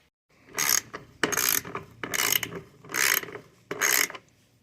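Ratchet wrench backing out the license plate screws on a Jeep JKU during a rear bumper swap, five bursts of rapid close clicking separated by short pauses, with no talk.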